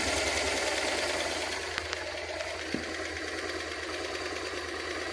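A Honda Transalp motorcycle engine idles steadily after its fuel-air mixture screw is adjusted, a continuous close, loud running hum with a couple of faint clicks and no talk.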